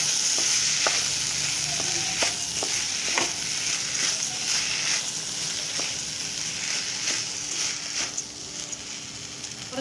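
Soaked rice being stirred in a hot pan for vegetable pulao, with a steady sizzle of frying underneath and repeated scraping strokes of the spoon against the pan, close and fairly loud, no voices.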